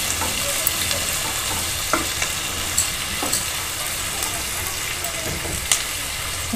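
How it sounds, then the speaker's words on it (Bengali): Chopped onion sizzles steadily in a pan while being lightly browned for egg chops, with occasional stirring scrapes and clinks. "এটা আমি হালকা কালার করে ভেজে নিচ্ছি।"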